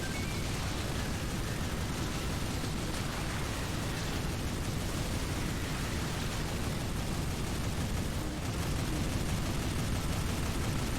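Dense, continuous gunfire aimed at swarming ant creatures in Earth Defense Force 5, a loud unbroken roar of rapid shots and blasts with no pauses.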